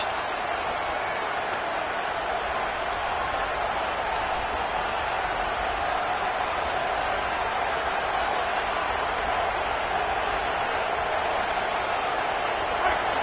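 Large football stadium crowd at a college game, a steady broad roar of cheering and noise that holds evenly throughout with no clear peaks, distant and continuous.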